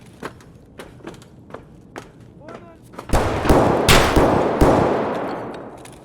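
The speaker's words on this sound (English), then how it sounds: "There's another shot over here." Gunfire in Escape from Tarkov: faint distant shots and footsteps at first, then a loud close burst of several heavy cracks with a sustained roaring echo, and a voice talking lightly underneath.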